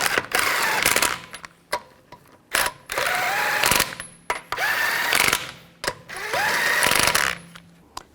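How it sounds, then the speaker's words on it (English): Lug nuts spun onto a 2004-2008 Nissan Maxima wheel with a power tool, several loud rattling bursts of a second or so separated by short pauses, close by. "Put the tire back on. Put the lug nuts on."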